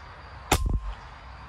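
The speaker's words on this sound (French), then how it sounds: "C'est parti pour 10 tirs sur la cible centrale que j'ai scotché" A single shot from an Epic Two air rifle fired toward a target 155 meters away, a sharp close crack followed by a brief low thud, then quiet.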